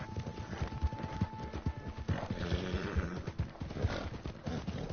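In Red Dead Redemption II, a horse's hooves clop in a steady, fairly quick rhythm at close range, with a faint tonal hum early and a brief snort or breathy sound midway.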